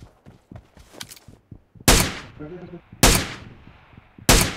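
Three loud, sharp gunshots in the mobile battle royale BGMI, spaced about a second apart, close and distinct over quieter footsteps and light game movement sounds.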